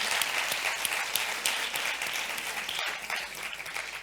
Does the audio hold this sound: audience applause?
yes